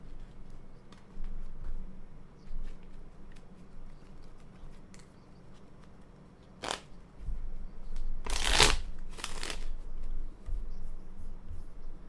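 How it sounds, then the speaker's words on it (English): Tarot-style cards are shuffled close up: soft rubbing and faint ticks give way to a few sharp riffling bursts near the end, with no talking. "Oh, I almost shuffled them backwards."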